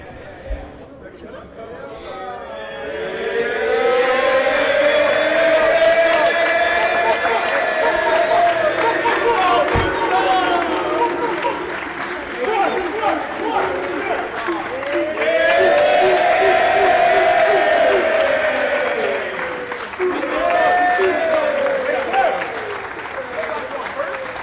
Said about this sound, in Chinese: 获得队友集体的掌声欢迎。